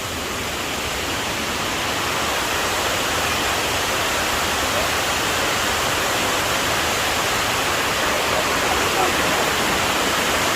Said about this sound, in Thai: ไซโยกน้อยครับน้ำตกไซโยกน้อยน้ำตกไซโยกน้อย สวยมากครับ